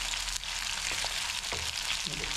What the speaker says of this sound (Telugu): సిమ్లో పెట్టేసి ఫస్ట్ వేయించాలి